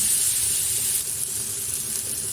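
Potatoes frying in a pan with a steady, close sizzling hiss that holds evenly throughout, with no talking.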